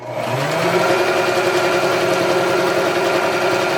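Sewing machine running steadily while stitching a Christmas tree quilt block potholder, a close, continuous mechanical whir with a brief start at the beginning and no talk.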